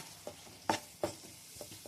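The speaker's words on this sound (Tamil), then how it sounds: "இது நல்லா நம்ம கிளறி விட்டுக்கலாம்." A spoon stirs curry in a frying pan, giving a few soft scraping clinks and knocks at an irregular pace over a faint steady sizzle, quiet and close, with no talking.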